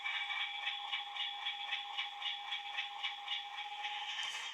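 Sound from the DCC sound decoder of a Hornby R2901XS Class 50 model diesel locomotive: a faint, tinny engine drone from a small speaker that pulses in a steady rhythm, ending in a soft click.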